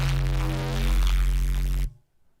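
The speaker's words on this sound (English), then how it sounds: "the next one that we've got is Mech Blast." A Phase Plant synth preset called Mech Blast plays a loud, dense, gritty tone over a heavy sustained low drone with buzzing harmonics, holding steady for nearly two seconds before cutting off abruptly into silence.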